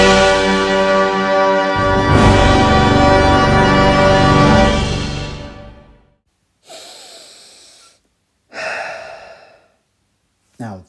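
TriStar Pictures logo orchestral fanfare from 1993 to 2015 swells loudly with full, sustained orchestral chords for about six seconds and then cuts off, followed by a few short, breathy bursts.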